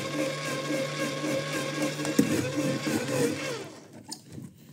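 An electric mandoline slices cabbage into fine julienne, giving a steady, close motor whir with a buzzing hum that runs without a break for about four seconds. It then cuts off, leaving faint kitchen clatter.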